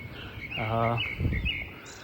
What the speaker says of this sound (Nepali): चिरबिर चिरबिर चराचुरुङ्गीहरूको आवाज सँगसँगै